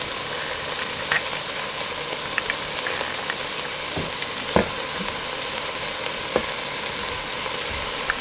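Garlic and ground meat sizzle in a pan for taco soup, a steady close frying hiss with occasional pops and scraping clicks.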